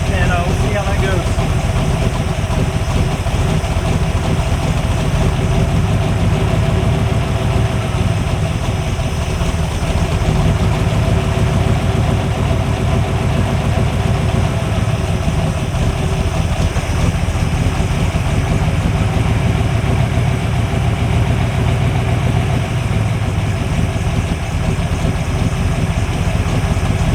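A 1970 Corvette C3 idles steadily while its carburetor idle mixture screws are adjusted, a loud, continuous low engine rumble with a faint mechanical hum, and a voice speaking over it now and then.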